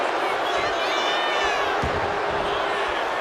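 A wrestling crowd in the WWE 2K25 video game roars and cheers steadily, a dense, loud arena wash with whoops over it and a single thud partway through, while a commentator talks over the noise.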